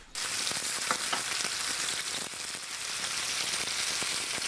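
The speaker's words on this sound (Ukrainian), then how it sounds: "Хай ще посмажиться, потім щипцями обережно перевернеш." Mushrooms frying in a hot pan give a loud, continuous crackling sizzle with scattered pops, close and steady throughout, with no talk.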